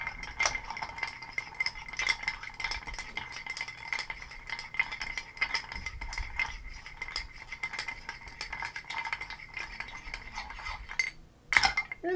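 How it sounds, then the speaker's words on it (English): A cocktail being stirred in a glass, with a bar spoon clinking and rattling against the glass in quick, continuous, fairly close strokes, followed by a brief louder clatter at the end. "Just give that a stir."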